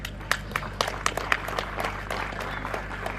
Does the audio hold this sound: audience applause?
yes